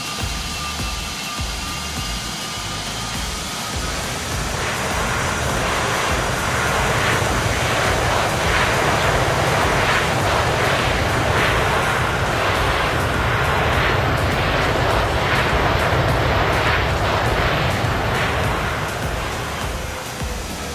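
Airplane engine in a VATSIM flight simulator on a flight from Osaka-Kansai to Fukuoka: a steady broadband roar that swells after a few seconds and holds loud and constant for the rest of the clip.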